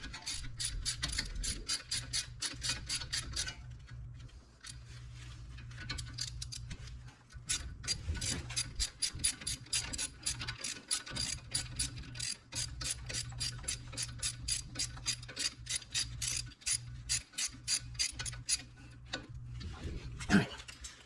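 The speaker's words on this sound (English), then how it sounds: "get your ratchet," Rapid clicking of a ratchet tightening a brake caliper bolt on a 2016 Honda Pilot, close and steady, in repeated runs of fast ticks with brief pauses between them.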